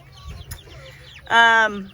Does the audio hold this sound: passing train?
no